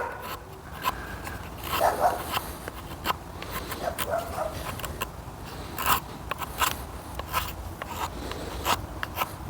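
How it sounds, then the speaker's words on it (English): A dog barks indoors in short, scattered bursts, muffled and moderately distant, mixed with clicks and rustling handling noises close by. "there's my stupid dog barking."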